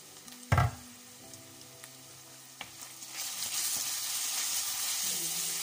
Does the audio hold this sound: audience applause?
no